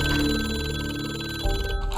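A telephone rings with a bell-like trill for about a second and a half, then gives way to a quieter background, heard up close with no voices.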